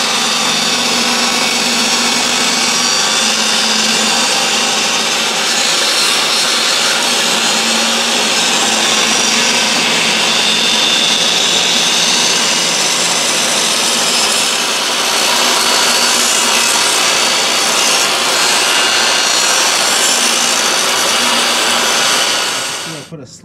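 Power tool cutting and gouging out a corner of a granite or stone countertop, a loud continuous high-pitched whine with grinding noise, held steady and close for the whole stretch before cutting off abruptly at the end.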